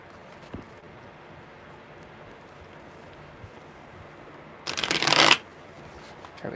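A deck of tarot cards gets a single quick riffle shuffle, a short burst of crisp flapping near the end of a quiet stretch, close and clear with no talking.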